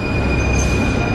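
Passenger train interior on the way to Disneyland Paris, a steady rumble of wheels on track with a thin high whine, close and continuous, with no talking.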